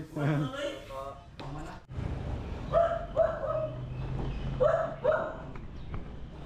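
A dog gives a few short barks and yips close by, between and under people talking.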